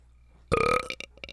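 A single loud, close burp about a second long, with a few short throaty tails trailing off after it, voiced by a person imitating a cat burping.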